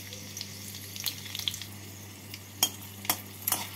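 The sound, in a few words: dried chili, green chilies and nigella seeds frying in hot oil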